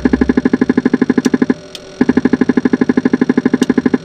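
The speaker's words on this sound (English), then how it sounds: "That is the elevator electric trim." Elevator electric trim in a light aircraft during takeoff, a rapid machine-gun-like popping that repeats evenly, breaks off briefly and then resumes loud and close over the engine's hum.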